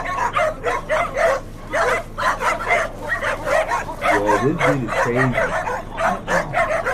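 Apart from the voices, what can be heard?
dogs barking in a played video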